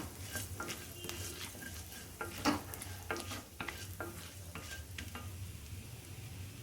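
Dal and cumin roasting dry in a pan for brinjal gothsu, a faint steady crackle broken by a series of sharp spoon-against-pan scrapes and taps, with no voices.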